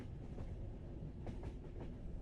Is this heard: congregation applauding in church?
no